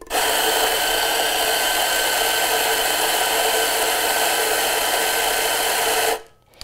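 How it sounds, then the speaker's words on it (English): An espresso coffee grinder grinding beans for an ECM Mechanika V Slim setup: a loud, steady, high-pitched motor whir running nonstop for about six seconds and then cutting off abruptly, with no talking. "So what we'll do to start is grind our coffee."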